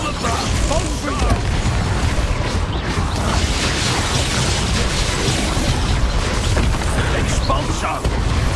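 A Confringo fire spell bursts during combat in Hogwarts Legacy, a dense, continuous roar of blasts and rumbling game effects that stays loud throughout, with a player shouting over it.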